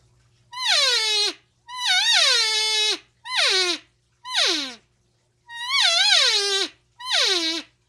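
A person imitates an elk cow call by voice, six drawn-out, emotional mews with rising then falling pitch, close and loud, separated by short pauses.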